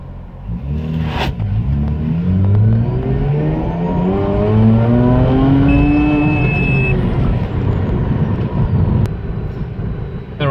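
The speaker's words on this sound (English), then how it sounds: "I will show you how the car accelerates." A Mazda RX8 converted to run on LPG accelerates hard, its engine note climbing steadily in pitch through the revs and staying loud and close for several seconds.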